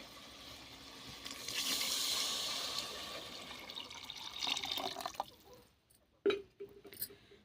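Water splashes steadily into a vessel for several seconds, then tapers off, followed by a couple of clanks and drips.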